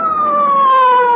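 A police car siren wails loud and close, its steady tone gliding slowly downward for a moment with no voices over it.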